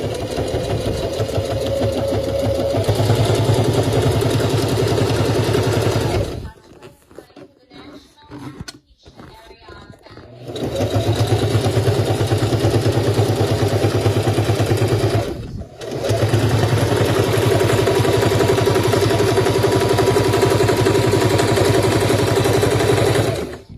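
A sewing machine stitches eyelet leather pants with a steady, loud mechanical whir in three long runs, separated by short pauses with handling noise, close up and without talk.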